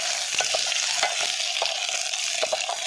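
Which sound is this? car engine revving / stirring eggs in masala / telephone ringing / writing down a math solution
stirring eggs in masala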